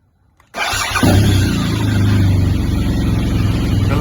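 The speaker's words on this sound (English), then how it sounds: "Let's start the bike up normally." A motorcycle engine cranks and catches after a brief silence, then settles into a loud, steady idle close by.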